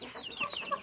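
A hen arranging her nest gives soft, quick clucks and murmurs up close, a brief run of low fowl chatter.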